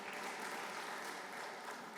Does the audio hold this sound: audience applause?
yes